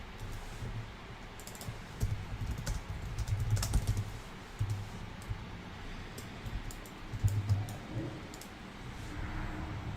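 Steady typing on a computer keyboard during a gaming session, with a rapid, uneven patter of clicks and a few louder keystrokes at close range and no talking.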